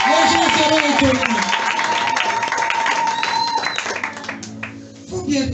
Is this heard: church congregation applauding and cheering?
yes